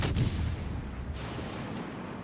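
Warship main battery guns firing in World of Warships Legends, a heavy booming salvo at the start that rolls off into a long rumbling decay.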